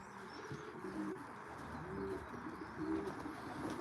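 Racing pigeons in an old bird team loft coo softly in repeated low rolling phrases, with a faint chirp or two over steady background noise.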